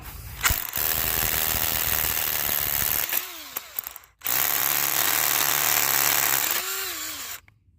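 Two long, loud bursts of hammer drilling with a long bit through a block, harsh and rattling, separated by a brief pause, close by with no voices.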